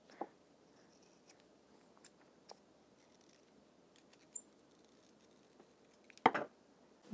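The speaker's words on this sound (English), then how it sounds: "So I just hold it in place while I cut it." Faint, sparse snips of scissors cutting wool felt bunny ear pieces, a few quiet clicks scattered before one louder cut near the end, in a quiet room.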